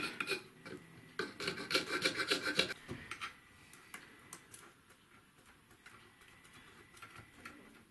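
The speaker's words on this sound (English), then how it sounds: "Taking little bits off with my scraper here, taking the black marks off." A scraper shaves wood while inletting a lock into a wooden musket stock for a snaphaunce musketoon, a burst of close rasping strokes followed by quieter, scattered scraping.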